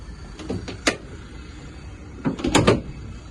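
Several quick clicks and thuds as a 2019 Renault Kangoo's side door is unlatched and opened, in two short bursts, close up and without speech.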